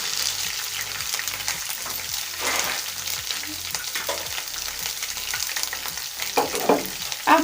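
Ginger and green chili paste fries in hot ghee, giving a loud, steady crackling sizzle close up, with occasional stirring scrapes toward the end.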